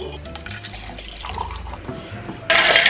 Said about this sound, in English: Just filled up my Stanley cup.